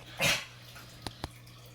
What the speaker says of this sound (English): You hear the dogs wrestling.